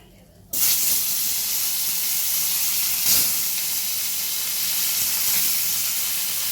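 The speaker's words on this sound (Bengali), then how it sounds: "বাকি মাছগুলোকে আবার আমি দিয়ে দেবো ওই তেলের মধ্যে।" Gurjaoli fish frying in hot oil, a loud, steady broadband sizzle that bursts on abruptly after a short quiet start and holds constant throughout, with no talking.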